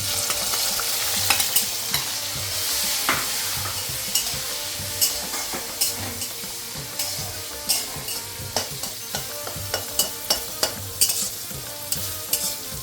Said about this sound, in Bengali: এই তেলে আমি কুচানো টমেটোগুলো দিয়ে দেবো